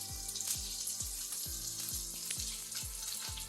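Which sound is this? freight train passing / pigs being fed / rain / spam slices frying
spam slices frying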